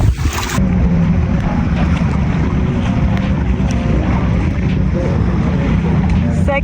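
Wind gusting over a kayak out on open water, a steady loud rush of wind buffeting the microphone with faint lapping water beneath, constant for several seconds.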